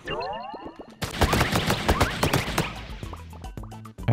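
Rapid gunfire from a weapon in the arcade game Pang Adventures, a dense string of quick sharp electronic shots that starts abruptly, alongside bouncy chiptune-like tones and game effects that thin out toward the end.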